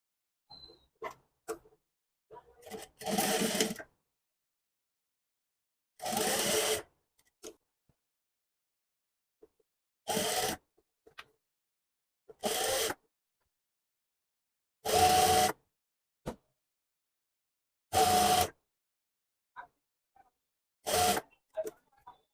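A sewing machine stitches a potli-button neckline in about eight short, separate bursts with near-silent pauses between them, each run lasting under a second.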